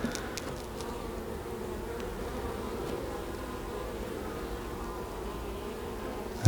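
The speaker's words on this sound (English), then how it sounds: "Come on, bees, out of the way." Honey bees hum steadily around an open beehive during frame work, a close, continuous droning buzz that stays even throughout, with a sudden loud knock at the very end.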